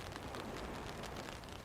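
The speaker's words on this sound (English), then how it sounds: "I would like to see the ripples in the water from the rain falling." Very faint, steady patter of rain falling on a lake shore in a virtual Hogwarts tour, a soft continuous hiss of drops with no voices.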